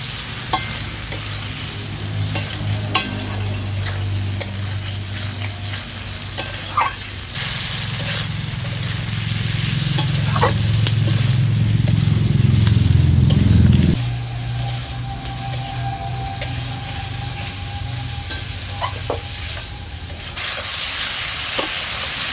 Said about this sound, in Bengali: মশলার সাথে আলুটাকে ভালো করে কষিয়ে নিয়েছি।